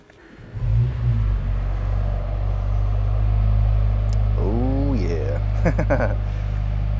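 A 2023 Mercedes-AMG SL 43 engine is started with a push-button ignition, a deep rumble rising suddenly and then settling into a steady, loud idle. Brief voice sounds come through near the end.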